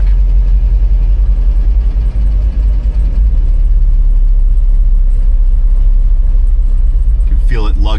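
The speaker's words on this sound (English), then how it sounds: "You can feel it lugging the engine as we're kind of raising ourselves back up in the rear." Citroen car engine lugging under load while driving, a steady loud low rumble throughout the cabin with a slight swell near the end.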